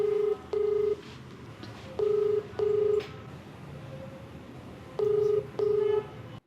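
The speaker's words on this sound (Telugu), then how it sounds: "ఒకసారి కాల్ చేస్తాను." Telephone keypad dialing tones place a call, with six steady beeps in three pairs separated by short pauses, clear and close over a low background hum, with no talking.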